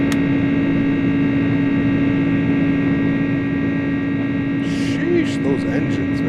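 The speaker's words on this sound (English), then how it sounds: "Sheesh, those engines, man." Pratt & Whitney engines of an iniBuilds A300 in Microsoft Flight Simulator drone with a steady, close tonal hum and whine, constant and unbroken, with a few brief soft chirps near the end.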